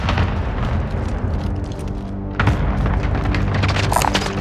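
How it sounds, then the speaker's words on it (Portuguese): A concussion grenade detonates in Call of Duty Warzone on PS5, a deep rumbling boom that swells again midway through the clip, dense and heavy with no voices over it. "Granada de concussão lançada."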